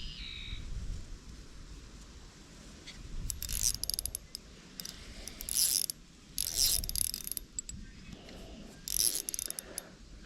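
Fishing reel drag on a light rod spooled with 2-pound test line ticking and buzzing in bursts as a panfish pulls, rapid clicking runs with short pauses, faint and close outdoors.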